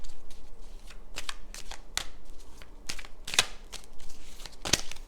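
Tarot cards being shuffled by hand before a one-card pull: a series of crisp riffling and slapping card sounds in uneven bursts, close up, with sharper snaps near the end and no talking.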